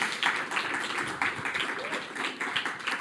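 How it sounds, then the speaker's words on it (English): Crowd applause at a digital freedom forum, a continuous patter of many hands clapping with small rises and dips, moderately loud and sustained throughout with no voices on top. "So let's give a round of applause to her."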